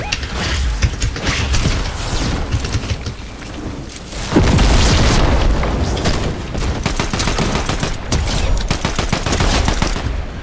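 Rapid bursts of Fortnite video game gunfire crackle nonstop, loud and dense, with a heavier barrage midway and sharp repeated shots toward the end.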